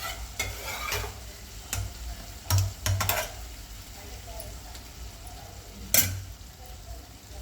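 A spoon stirs cooked chana dal into a ridge gourd curry in a sizzling pan, with a steady frying hiss and several sharp clinks of metal against the pan, close by.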